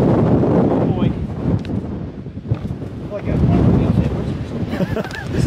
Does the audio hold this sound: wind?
yes